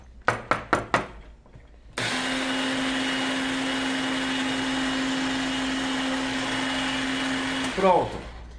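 Countertop blender pureeing olive oil, garlic and half an onion: a few sharp taps, then a loud, steady motor whir holding for about six seconds before winding down with a brief rattle.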